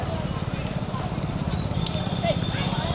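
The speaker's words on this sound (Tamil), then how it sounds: "மாடு வருது பின்னாடி மாடு வருது" Hooves of bullocks pulling carts in a village bullock-cart race patter in a steady rhythm beneath a low rumble, with voices calling over the scene.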